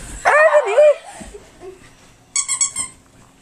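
A dog lets out a high whining whimper, then after a pause a short burst of sharp yips and barks, close and loud with no one talking.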